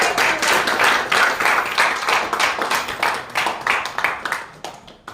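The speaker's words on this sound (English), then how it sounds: "Let's have a big round of applause for Cindy." An audience at a speakers forum claps for a speaker after her speech and slide presentation, a lively run of distinct, fairly close hand claps that gradually thins out toward the end.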